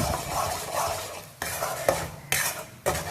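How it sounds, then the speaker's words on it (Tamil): A coconut mixture being stirred in ghee in a pan, with rhythmic scraping strokes and a spoon clinking against the metal over a soft sizzle, close and moderately loud. "இதை நல்லா கிளறி விடலாம் இந்த நெய்யோட"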